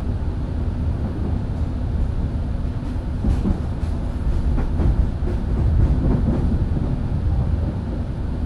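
KA Brantas classic passenger train riding the rails between Jakarta and Semarang, with a steady, loud rumbling roll and faint rhythmic clacking heard from inside the carriage throughout.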